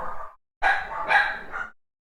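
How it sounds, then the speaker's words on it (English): Dogs bark indoors, loud and close: one short yelp, a pause, then a longer run of overlapping sharp barks that fades out. "sorry for my dogs"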